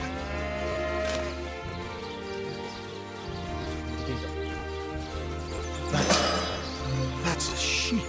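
Low, drawn-out sheep bleats in the video game Divinity repeat over a steady droning background, with a brief burst of noise partway through.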